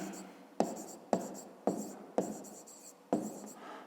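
Chalk or pen writing out a fifth-grade math solution: six sharp taps, each followed by a short scratchy stroke, evenly spaced and close.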